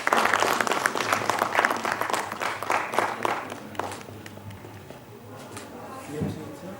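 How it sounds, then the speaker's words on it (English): A medical conference audience gives a round of applause at a poster award segment. It starts as dense, loud clapping from many people, then thins and fades over several seconds, with faint voices underneath. "Can we have a round of applause, please?"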